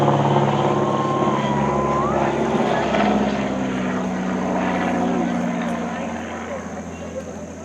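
A 1929-design Great Lakes biplane with a later engine drones loudly and continuously through an aerobatic routine at an airshow, its pitch gradually shifting as it maneuvers, while an announcer talks over it.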